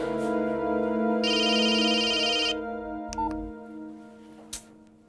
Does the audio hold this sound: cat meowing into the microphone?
no